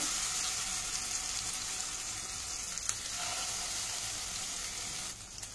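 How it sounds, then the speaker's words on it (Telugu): Mint and onion paste frying in a pan with spices such as mace and cumin, a steady close sizzle with light bubbling and a brief stirring scrape, no voices. "పచ్చివాసన పోయేంత వరకు ఇది ఫ్రై చేసుకుందామండి"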